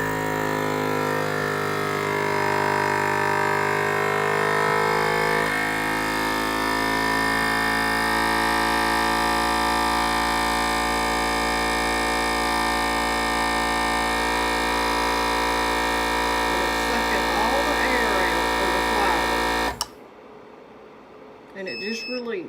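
A vacuum sealer pumps air from a mason jar of flour through a dummy lid, a steady loud motor whine for about twenty seconds with a voice talking over it, then cutting off abruptly.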